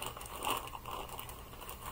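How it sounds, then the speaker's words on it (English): A plastic bag of Joann's Big Twist cotton yarn being handled and opened, with a continuous close crinkling and rustling at low volume and no voices. "I apologize for the crinkling already"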